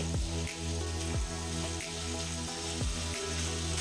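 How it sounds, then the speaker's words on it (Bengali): Bitter gourd and potato pieces fry in a pan over medium flame with turmeric and salt, giving a steady close sizzle broken by repeated scraping and stirring strokes, with no voices. "একবার নেড়ে চেড়ে একবার ছড়িয়ে দিয়ে আবার নেড়ে চেড়ে এইভাবে 3-4 মিনিট উচ্ছে আলু ভেজে নিতে হবে"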